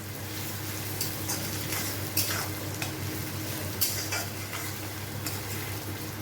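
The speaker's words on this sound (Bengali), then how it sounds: "পেঁয়াজটা একটু ভাজা ভাজা হতে থাক" Steady sizzling of onions frying in a pan, with a low constant hum and occasional light scrapes and clinks of a utensil stirring.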